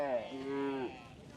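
A cow gives a single drawn-out moo, loud and close, rising then holding a steady tone for almost a second before trailing off into quiet outdoor background.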